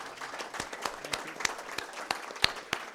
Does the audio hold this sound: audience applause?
yes